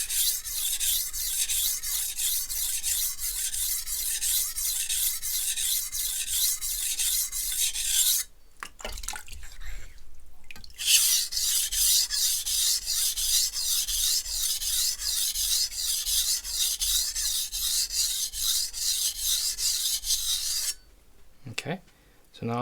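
Repeated knife-sharpening strokes of a Zwilling Pro santoku on a whetstone, a steady rhythmic rasping close up and loud, pausing briefly twice before resuming.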